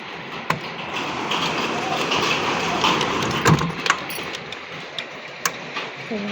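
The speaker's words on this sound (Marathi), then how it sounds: "गारांचा पाऊस पडतोय." Hail and rain pour down in a hailstorm, a steady hiss of falling water broken by sharp ticks and knocks as hailstones strike nearby surfaces, some close and loud.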